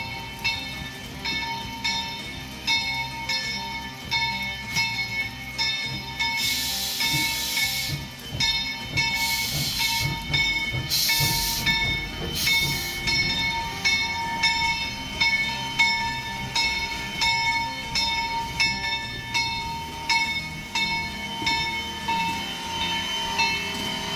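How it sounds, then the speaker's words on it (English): A steam locomotive runs at a heritage railway tunnel event, its coal-fired boiler hissing in loud bursts over a steady rhythmic chuffing and rumble of rolling cars, heard close and continuous with no talk. "hearing the sounds of a steam boiler"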